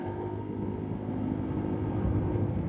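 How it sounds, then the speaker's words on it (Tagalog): Continuous engine and road rumble from a motorcycle ridden in traffic, with a dense steady rattle from the loose top box running throughout, loud and close, no voices. "Yung ingay ng top box oh."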